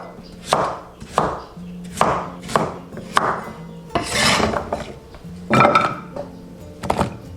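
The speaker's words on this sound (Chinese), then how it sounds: "把削皮洗净的萝卜切滚刀块。" Knife chopping a peeled radish into roll-cut chunks on a board, about nine close, solid thunks in a steady rhythm, each with a brief scraping tail, loud and alone.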